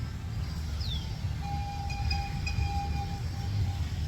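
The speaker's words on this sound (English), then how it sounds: "Sounds like the train's going by." A train rolls past at Lake Compounce amusement park beside a water park, a steady low rumble with long high tonal squeals from the wheels or a horn, and a brief descending chirp early on.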